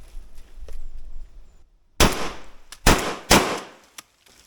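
Three loud, sharp blasts from a Sulun Tac 12 semi-automatic shotgun in quick succession, close and booming, after a stretch of quiet background noise; a faint click follows.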